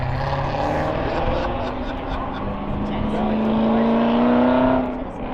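A supercharged car engine revs at a car meet, a loud, close, sustained roar whose pitch climbs gradually and then drops at the end, with a faint supercharger whine over the top.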